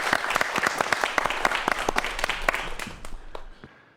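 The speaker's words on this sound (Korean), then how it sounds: "박수로 환영해 주시죠." An audience at a YTN Science virtual reality talk applauds to welcome the first speaker, producing a full burst of many hands clapping that holds steady before thinning out and fading away.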